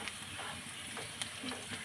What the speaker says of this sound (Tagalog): gisa-gisa po muna natin ang ating bawang hanggang maging golden brown po siya